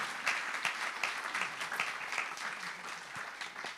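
A church congregation applauds together, a dense, steady wash of many hands clapping that fills the room and holds at an even level throughout.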